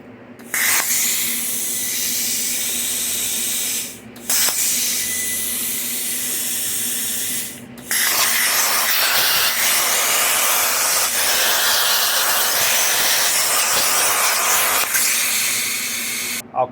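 A plasma cutting table cuts exhaust pipe brackets for a Long-EZ aircraft. The loud, steady hissing roar breaks off in two short pauses, then runs on continuously.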